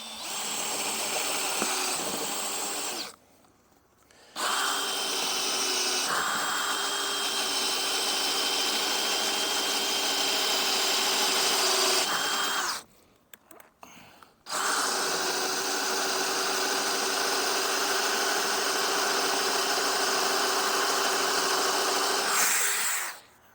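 A power drill bores holes for a hinge, whirring loudly and steadily in long runs that twice stop briefly to near silence before spinning up again, close by and alone.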